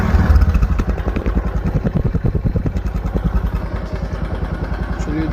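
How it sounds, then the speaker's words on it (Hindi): A Bajaj Discover 100cc motorcycle engine runs close by with a fast, steady thumping idle beat that stays loud throughout. "पहले आप लोग आवाज़ सुनिए बाइक की कैसी आवाज़ है।"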